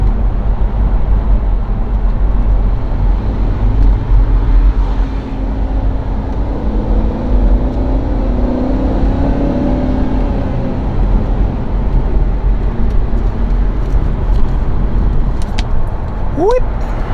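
A BMW car driving along a road, steady loud engine and tyre rumble from inside the cabin throughout, with a brief tonal squeak near the end.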